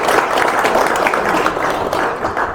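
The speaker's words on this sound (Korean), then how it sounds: "저희 박남팔 총재님께 따뜻한 박수 부탁드리겠습니다" Warm applause from the audience at a Korean association's presidential inauguration ceremony, honoring the incoming president; steady, dense clapping fills the hall throughout.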